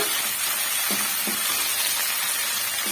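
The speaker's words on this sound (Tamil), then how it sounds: "கொஞ்சமா கருவேப்பிலை வச்சிருக்கேன், அதையும் வந்து சேர்த்துடலாம். சேர்த்துட்டு நல்லா வந்து வதக்கி விட்டுடுங்க." Curry leaves sautéing in a hot pan for drumstick-leaf rice, a loud continuous hiss of frying with two light utensil taps, near and steady.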